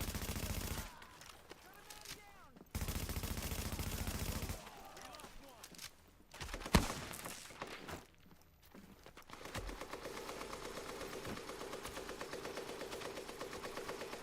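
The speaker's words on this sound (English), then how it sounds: "They're firing at you." Enemy gunfire in Tom Clancy's The Division during a storm mission, coming as loud bursts with gaps between them and mixed with game noise, then a continuous rattling stretch toward the end.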